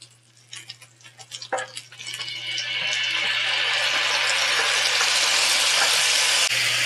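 Fish sauce hits a hot pan holding a pork tomahawk steak, and a few light clinks and taps give way to a loud, steady, hissing sizzle that fills the rest of the moment.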